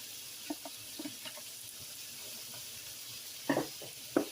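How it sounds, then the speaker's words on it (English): Sliced red and green peppers and onion sizzle softly in a hot pan, a faint steady hiss with a few sharper knocks and clatters near the end, no speech. "So now this is my peppers, red, green, and my onion. So we're going to let that go."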